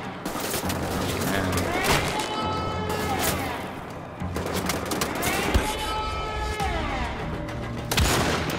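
Turret gunfire in the shooter game Wolfenstein: The Old Blood, a sustained loud barrage of rapid shots and blasts filling the whole stretch, with brief swells and breaks in the firing.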